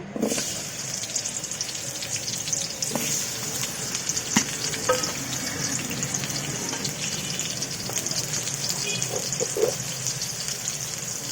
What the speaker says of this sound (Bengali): প্রথমে আমি আলুগুলা ভেজে নিব। দিয়ে দিব আলু